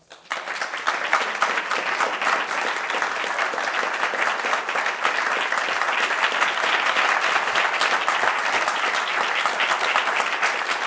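Sustained audience applause welcoming a lecturer at a talk on the Shepherd School of Music, a dense, steady wash of many hands clapping at even loudness for about eleven seconds, with no speech over it.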